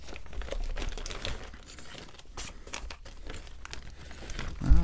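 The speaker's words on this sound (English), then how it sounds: "For anyone wondering, those are shredding scissors." Shredding scissors cutting paper: continuous papery crinkling and shredding for several seconds, rustly and close, with no voices.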